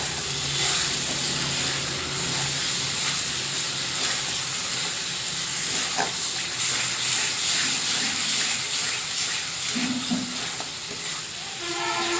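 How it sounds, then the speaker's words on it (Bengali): Masala spice paste sizzles and fries steadily in a pan, a dense continuous crackle and hiss with occasional stirring scrapes and soft clinks, close and fairly loud throughout. "খুব ভালোভাবে মশলাটা কষিয়ে নেব।"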